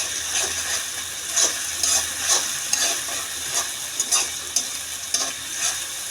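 Garlic frying in a pan, with a steady bright sizzle and spatters, plus repeated scraping strokes of stirring spaced about every second, fairly close with no voices.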